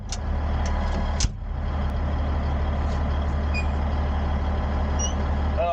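A Caterpillar D8 bulldozer engine runs with a steady, loud diesel drone and rumble throughout, broken by a brief clunk near the start, with faint high whines above it and no speech.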